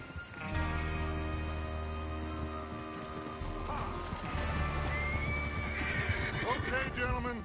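Horses whinny and neigh over a steady game soundtrack, with clip-clopping hooves and occasional thuds in a Western train-robbery scene, loud and continuous throughout.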